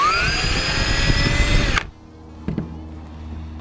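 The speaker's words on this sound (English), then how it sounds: "We're going to put the drill in reverse and just go through the threads." A power drill running in reverse through the threads of a bowfishing arrow whirs steadily at high speed for nearly two seconds, then cuts off abruptly, leaving a quiet background with a brief faint knock.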